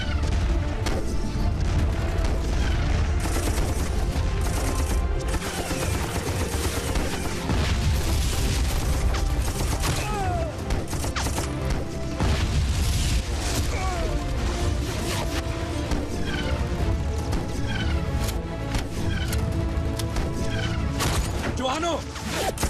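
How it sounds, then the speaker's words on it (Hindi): Heavy gunfire and artillery blasts in a war scene from a Pakistani battle film form a dense, continuous barrage of cracks and booms, with shouted voices mixed into the din. "इस तरफ से हैवी फायर हो रहा है सर।"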